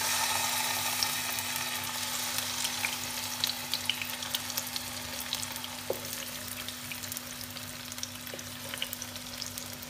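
Marinated chicken sizzles steadily in oil in a pot for a chicken tikka karahi, a continuous close frying hiss with scattered pops and crackles throughout, no voices.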